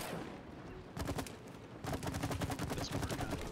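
Goop being shot in the video game It Takes Two, a burst of rapid repeated squirting shots after a brief pause, loud and close with no talking.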